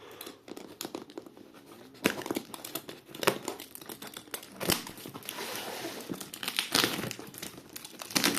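A parcel holding circuit boards is unwrapped close up, with loud crinkling plastic and paper, bursts of tearing and rustling handling that grow busier toward the end, and no speech.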